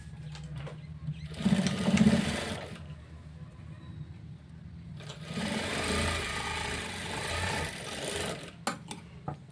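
A sewing machine stitches a blouse hem in two runs, a short burst of motor whirring, a pause, then a longer steady run that fades out, close and fairly loud.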